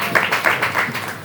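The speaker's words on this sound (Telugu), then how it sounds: "చప్పట్లు కొట్టి గట్టిగా ప్రభువుని మహిమపరచండి." A church congregation claps their hands together in a brief, rhythmic burst of several quick claps, moderately loud and close, with a faint voice underneath.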